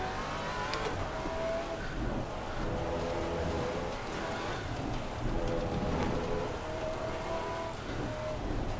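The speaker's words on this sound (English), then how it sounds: "What I usually refer to as heavy rain." Heavy rain in the Assetto Corsa Competizione racing game, a steady loud hiss of downpour across the whole stretch, with a car engine droning underneath and no talking.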